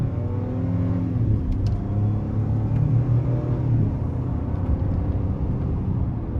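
A 2023 Ford F-150 XLT with the 2.7-liter twin-turbo engine revs in sport mode with manual mode engaged, a steady loud low rumble with rising and falling harmonic tones heard from inside the cab.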